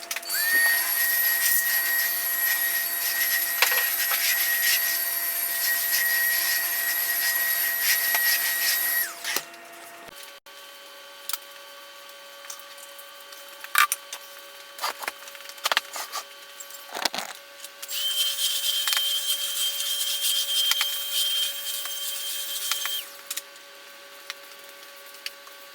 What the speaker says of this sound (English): I'm about to get my vacuum cleaner.